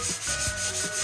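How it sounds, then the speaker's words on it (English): A sanding block rubs back and forth over puttied screw holes on overhead cabinets in a yellow bus, making close, rasping strokes in a quick, even rhythm. "sand all of these bolt holes smooth"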